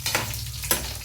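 Red chillies fry in hot oil for a tempering, giving a close, crackling sizzle with two sharper bursts of spitting as they are stirred.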